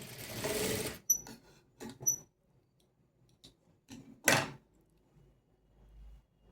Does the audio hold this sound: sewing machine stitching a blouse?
yes